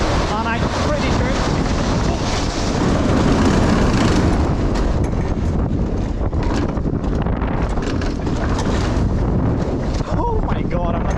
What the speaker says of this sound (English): this is Tornado at Bakken in Klampenborg, Denmark. And it's a spinning coaster.